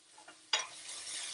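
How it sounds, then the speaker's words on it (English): Sliced Hungarian sausage sizzles in a pan as it is stirred: a faint scrape, one sharp clatter of the spoon, then a quiet steady frying hiss, close and brief, with no voices. "So stir it a bit,"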